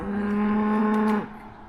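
A single long, low moo from a cow on a farm near a fence line, loud and fairly close, holding steady before breaking off and leaving faint background noise.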